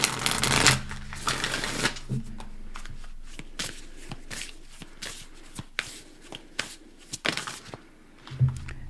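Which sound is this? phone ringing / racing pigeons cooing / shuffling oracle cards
shuffling oracle cards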